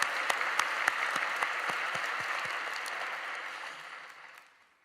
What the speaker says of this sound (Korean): 우리 주님께 모든 감사와 영광의 박수 한번 뜨겁게 올려드리겠습니다